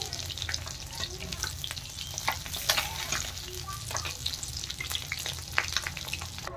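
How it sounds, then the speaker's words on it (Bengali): Silver carp pieces frying in a pan for a potato and pointed gourd curry, a steady dense sizzle with occasional sharp crackles and stirring scrapes, close and continuous throughout. "মাছগুলো দেখেন ভালো করে ভাজা হয়ে গেছে, এখন আমি তুলে নিচ্ছি।"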